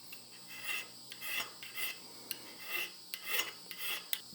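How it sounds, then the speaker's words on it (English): A small three-faced fine file rasps across the hardened steel end of a vintage dirt bike axle, about nine short, close strokes in an uneven rhythm, each a bright scraping burst with brief pauses between. "I like to use a little 3-faced fine file just like this"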